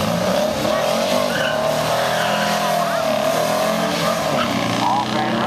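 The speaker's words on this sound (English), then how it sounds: "Oh, and here comes a Sterling kit car" A Sterling kit car passes on the right at a VW Bug run, its engine rising and falling as it goes by amid steady car and crowd noise, with people talking throughout.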